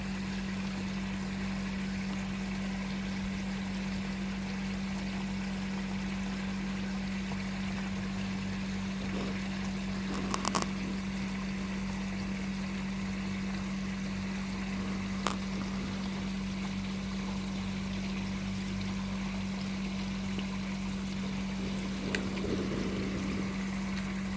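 A Hodgkin shower filter trickles water into a koi pond in a steady, unbroken wash, with a low pump hum beneath it and a few faint knocks, and no talking.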